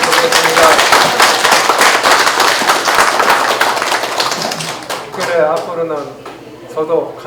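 The crowd at the opening ceremony of a free meal centre breaks into loud, dense clapping with sharp individual claps. The applause tapers off after about five seconds as a voice resumes speaking.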